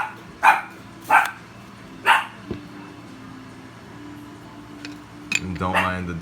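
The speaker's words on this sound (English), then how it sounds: "don't mind the dog barking" A pet dog barks in short bursts, three sharp barks early and a few more near the end, somewhat distant indoors while plants are being misted with a spray bottle.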